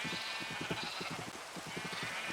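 A sheep bleats in a quick, wavering series of pulses that runs for a couple of seconds over a steady hiss.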